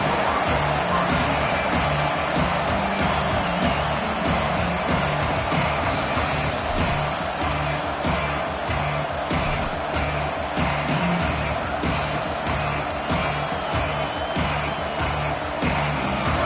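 A college football video game stadium crowd roars steadily and loudly throughout, a dense wall of cheering that never drops, with faint commentary underneath.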